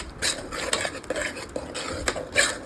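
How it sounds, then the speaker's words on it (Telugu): A spoon stirs a thick ground onion and tomato paste with curry leaves in a pan, irregular scraping strokes and light clinks against metal, close and moderately loud. "మళ్ళీ రుబ్బుకున్న ఉల్లిపాయ, టమాటా, కొంచెం కరివేపాకు వేసుకొని తిప్పుకుంటున్నానండి."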